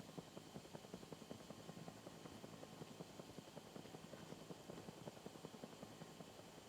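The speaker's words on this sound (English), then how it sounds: "Chopper's back." Helicopter in the Call of Duty Mobile battle royale game, a steady rapid rotor chop with rhythmic beating running throughout at moderate level, no talking.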